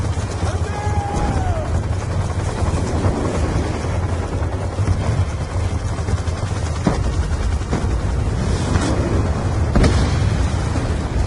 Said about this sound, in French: Des hélicos lâchent des unités directement devant le camp!